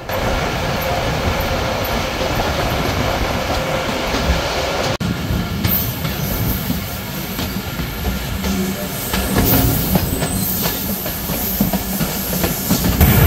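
Titumir Express passenger coach in motion, its soft, poorly stabilised suspension letting it sway heavily; a loud, steady rolling rumble with rattling fills the whole stretch, with no talk.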